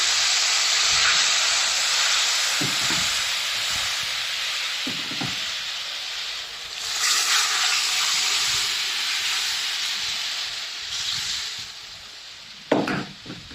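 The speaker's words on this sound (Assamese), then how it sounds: "এতিয়া মই যিখিনি দালি কুকাৰত সিজাই লৈছিলোঁ, সেইখিনি মই তাত সম্ভাৰ মাৰি দিম" Pressure-cooked dal poured into hot tempering sizzles loudly, a sustained bright hiss that swells and eases over several seconds, with occasional clatter of a spoon or pot.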